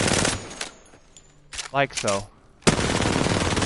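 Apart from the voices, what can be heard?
gunfire while hipfiring in Apex Legends video game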